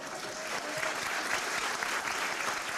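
An audience claps for bookshop employees at an evening event, dense and sustained applause from a crowd with a faint murmur of voices beneath it.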